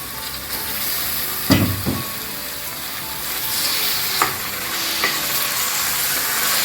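Country chicken meat dropped into a hot pan with onions, then fried and stirred: a steady loud sizzle with a few knocks and scrapes of the spoon against the pan, close by.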